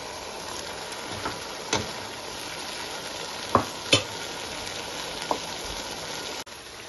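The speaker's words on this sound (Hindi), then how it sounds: "टमाटर भुनना स्टार्ट हो गए और अब हम मसाले टमाटर में डालने लगे हैं।" Tomatoes and spices fry in a pan for chicken biryani, a steady close sizzle with a few sharp clinks and scrapes of a spoon against the pan, no voices.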